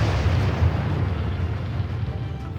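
A nuclear bomb explosion sound effect: a loud, sustained low rumbling roar that fills the whole stretch without letup, with no voices.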